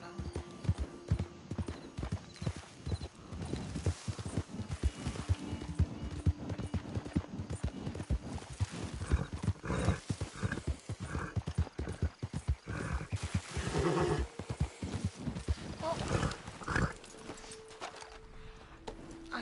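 Rapid clip-clop of hooves galloping in a video game, with a horse whinnying partway through and a voice talking in Italian now and then underneath.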